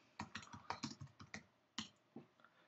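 Keys clatter on a Mac computer keyboard in a short burst of quick, crisp presses, a pause and then a few more taps, heard close and quiet, with no voice over them.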